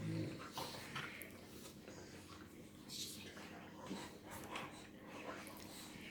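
Cane Corso dogs whimpering, yipping and panting as they play-fight, with scuffling throughout and a person talking over the noise at close range.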